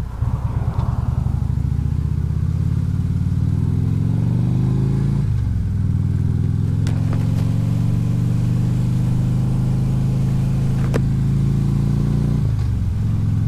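A car engine drones loud and steady from inside while driving at night, revving up through the gears with two distinct shift drops and some faint clatter, no talk.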